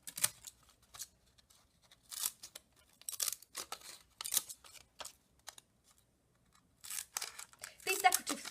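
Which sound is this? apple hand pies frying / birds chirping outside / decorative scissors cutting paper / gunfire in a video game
decorative scissors cutting paper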